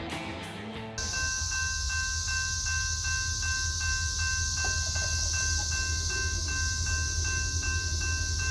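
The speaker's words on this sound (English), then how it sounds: "Okay, we got a rock train coming." A Norfolk Southern rock train rolls past steadily and loudly, a continuous rumble with a high metallic hiss and whine and faint rhythmic wheel clicks, close and unbroken for several seconds.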